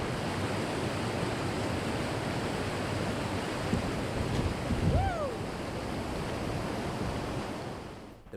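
Steady broadband rush of water from a river waterfall in Oklahoma, loud and continuous with no pauses, with a brief faint whistling tone partway through.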